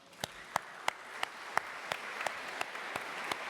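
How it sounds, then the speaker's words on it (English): Sparse applause from a small room audience at a co-operative congress: a dozen separate claps spaced at an even rhythm, with a steady room murmur underneath. "I think they deserve an applause"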